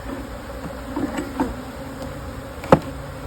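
Honeybees buzz in a steady close drone as frames are shaken during a brood chamber inspection, with a few faint clicks and one sharp knock of hive equipment.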